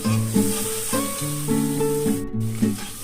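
Spice paste with turmeric sizzles steadily in a pan for mustard-poppy pabda. A spoon stirs through it, and a soft melodic tune plays underneath.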